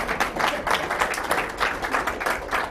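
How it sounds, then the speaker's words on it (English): An audience at a talk on the scientific study of sexuality claps together, a steady moderate burst of applause from a room of listeners, fairly close and without voices over it. "Do I get a little clap for that"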